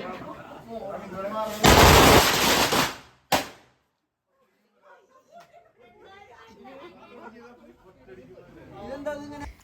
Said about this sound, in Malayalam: പടക്കമൊക്കെ കതിച്ച് ഇപ്പം അതിൻ്റെ സൗണ്ട് നല്ലോണം കേൾക്കാട്ടാ